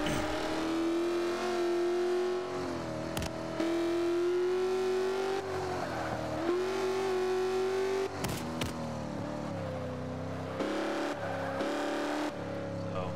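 A race car engine drones and revs as the car drives laps around a track in a video game, with pitch rising through gears and dropping at shifts, loud and continuous, with brief sharp effects between.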